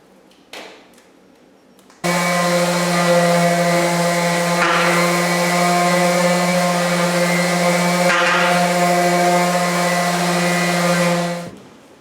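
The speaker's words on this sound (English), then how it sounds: "we're going to go along the edge here where the large machine missed, and just clean it up, make the edge smooth." An edge sander whirs up to a loud, steady electric hum as it smooths the edge of a wood floor missed by the larger machine, runs for about ten seconds with slight load changes, then winds down.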